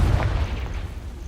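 The Confringo fire spell detonates in Hogwarts Legacy, a single muffled, booming blast that swells at once and fades into a low rumbling tail, with no talking.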